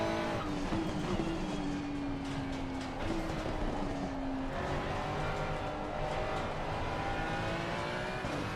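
A race car engine in Assetto Corsa Competizione droning steadily under a fainter ambient rumble, its pitch sliding and shifting as revs change across several seconds, moderately quiet throughout.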